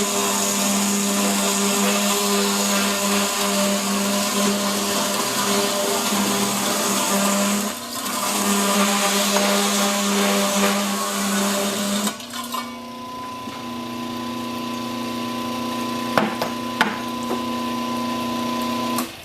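A saw makes a trim cut squaring the ends of wooden candle cup blanks, a loud continuous whine that drops in pitch and shifts tone partway through, with brief knocks near the end.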